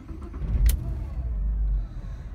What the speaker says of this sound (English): Starts up with absolutely no problems.